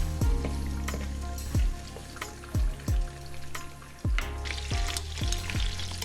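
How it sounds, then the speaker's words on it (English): Oxtail searing in a pressure cooker, a steady close sizzle broken by repeated sharp thuds and scrapes as pieces are turned, with no talking. "once one side is seared, let's give it a flippy flip so we can get all sides seared."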